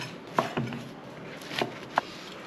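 Vegetables being diced on a cutting board for an Italian bread and tomato salad: a few sharp, separate knife taps against the board, close and fairly quiet, with a hushed room behind them.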